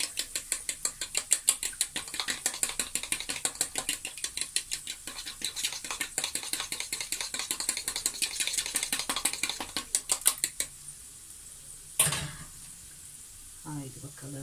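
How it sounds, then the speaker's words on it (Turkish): Two cracked eggs are whisked by hand in a bowl, making rapid, regular ticking strokes for about ten seconds, followed by a sharp clatter and a short stretch of quieter handling. "İki tane yumurtamı kırdım. Şimdi bunu çırpacağım ve onu içlerine dökeceğim."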